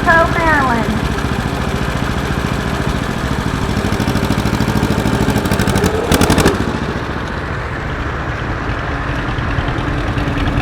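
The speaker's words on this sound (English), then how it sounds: "Here comes another John Deere. We got a 1941 John Deere LA." A 1941 John Deere LA antique tractor runs in an outdoor parade, its engine a continuous low chugging drone throughout, with a sharp burst of noise near the middle before it settles.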